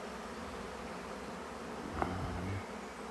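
A swarm of honey bees buzzes all around at close range, a steady dense hum that never lets up, with a few individual bees passing especially near partway through.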